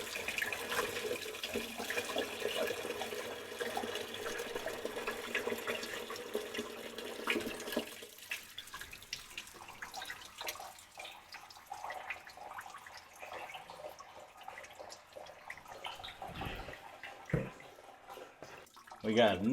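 Water running down an unclogged bathroom sink drain after clearing, a continuous faucet-like rush and gurgle that fades partway and gives way to quieter trickling and drips, with some handling clunks.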